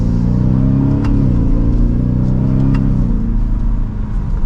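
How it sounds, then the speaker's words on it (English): A 2024 Ford F-150 Raptor R's supercharged V8 roars steadily under load in second gear, sport mode, a deep throaty rumble rising as the pickup accelerates hard, close and loud with no talking. "now you can get that supercharged V8 that sounds really good"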